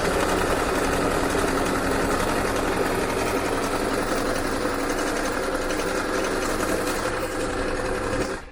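A sewing machine runs steadily in a boat's front cabin with a fast, even whir and rattle, close and continuous, stopping abruptly at the end.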